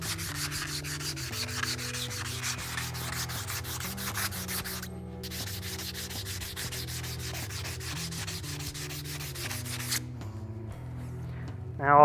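Rubbing excess powder coat off a CBI T3 high-clearance rear bumper part, a continuous scratchy, rhythmic rubbing and sanding sound, close and fairly loud, with repeated strokes and no talking.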